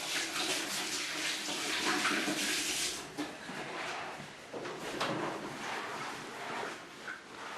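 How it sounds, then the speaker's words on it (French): Hands being washed under a running tap while preparing a hookah, a steady broadband rush of water with a few brief splashes and knocks near the sink, fairly close, with no talk. "se laver les mains, si c'est gras"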